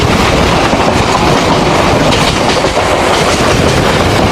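A train on the Beldanga to Lalgola line runs steadily, a loud, dense roar of wheels and carriage rattle with a faint clickety-clack rhythm, continuous throughout without voices.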